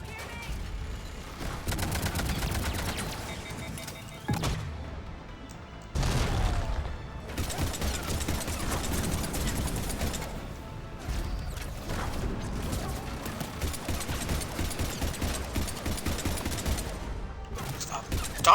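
Repeated rounds of gunfire in Mass Effect 3 combat, with dense bursts and short lulls over a long stretch and a player talking throughout.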